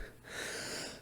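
A person imitates panting from shortness of breath, one short, breathy, wheezing exhale close to the mic.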